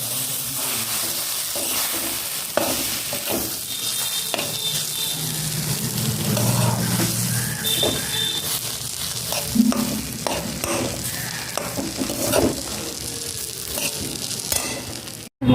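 Semolina fries and gets stirred in a hot pan for a Bengali home lunch, giving a steady close sizzle with repeated scraping spoon strokes and no voices.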